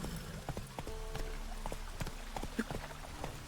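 Roach the horse gallops in Witcher 3 Wild Hunt, with steady, quick clip-clop hoofbeats under a low rumble of ambient game sound.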